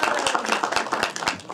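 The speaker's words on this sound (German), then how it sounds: "Applaus für Gabi." A studio audience claps for Gabi, the invited dream woman on a comedy sketch stage, a brief burst of dense, even applause.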